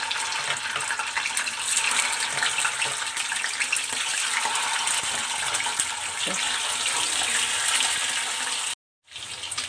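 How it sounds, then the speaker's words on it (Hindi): Fish sizzles in hot mustard oil in a pan, a steady close crackling hiss that carries on almost without a break and cuts out briefly near the end. "अब हम ये मछली को फ्राई करेंगे।"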